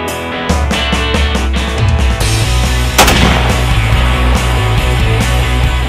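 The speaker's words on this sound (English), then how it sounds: "we're just set up here shooting right now at the gongs that are set up" Rifles fire at long-range steel gongs at a shooting school, a dense run of loud, sharp cracks in quick succession with echoing reports, close to the microphone and with no talk.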